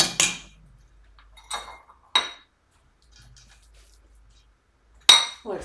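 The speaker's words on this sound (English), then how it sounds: "Get everything out of that whisk." A metal whisk is scraped and tapped against a mixing bowl, giving a few sharp, bright clinks separated by quiet gaps, close and isolated.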